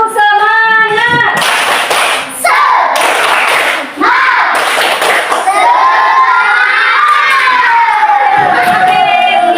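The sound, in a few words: schoolchildren doing a rhythmic spirit clap and shouting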